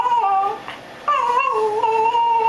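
A dog whimpers and whines at bath time, giving close, high, wavering cries in two drawn-out bursts with a brief pause between them.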